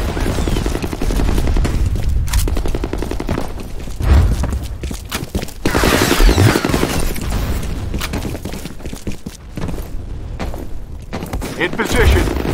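A grenade blast and gunfire in the video game F.E.A.R. Combat, full rush map: loud, dense bursts of shots and booms run nearly without pause, with heavy thuds and voices calling out over the din.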